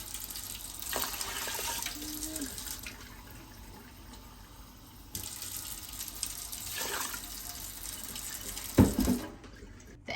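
Water poured into an Instant Pot holding rice, a steady splashing stream in two long pours with a brief pause between, ending in a clunk, with no voices.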